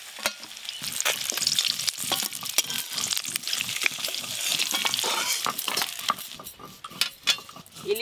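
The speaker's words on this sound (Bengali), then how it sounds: "ইলিশ মাছের মাথা দিয়ে লাউ শাক রান্নার জন্য সব সবজিগুলো ভেজে নেবো।" Vegetables for a bottle gourd greens dish with hilsa fish heads fry in a pan, a soft continuous sizzle broken by repeated rhythmic scrapes and stirs of a utensil against the metal, close and fairly quiet.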